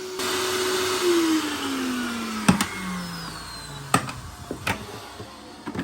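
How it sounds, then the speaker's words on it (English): A Vax 3-in-1 wet carpet washer vacuum cleaner runs loudly with a whining motor that drops in pitch, punctuated by a few sharp clicks and knocks. "I love this vacuum cleaner a lot."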